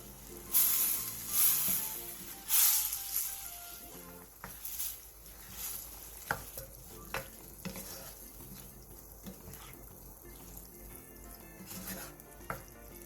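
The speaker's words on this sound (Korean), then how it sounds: "멸치육수 5스푼, 설탕 반스푼, 우렁, 두부, 청양고추, 대파를 넣고 3분에서 5분 정도 중불에서 볶아주세요" Anchovy broth, sugar, river snails, tofu, green chili and scallion being stir-fried over medium heat, loud sizzling bursts at first settling into quieter frying with intermittent clicks and stirring scrapes.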